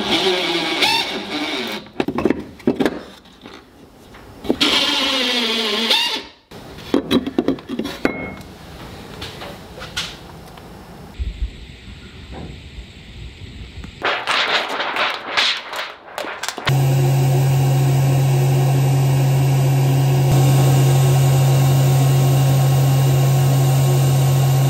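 Atezr L2 36W laser cutting metal for wall tool holders, with a steady mechanical hum and fan drone holding constant in the last stretch after mixed clattering handling noises and brief talk earlier.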